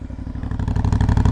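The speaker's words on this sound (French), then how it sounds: "c'est une moto avec un bruit d'origine" An Aprilia Shiver 900 motorcycle with its stock exhaust rumbles close by, a deep, loud, steady throbbing engine beat running continuously.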